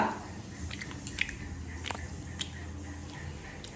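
Someone eats khaja, a fried sweet snack, making close, moist biting and chewing crunches at an uneven pace over a steady room hum, with no speech.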